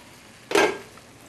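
Marinade poured into a hot pan of sautéing sprouts for a sweet and sour dish, a single sudden sizzling hiss that flares up loudly and then fades over about half a second.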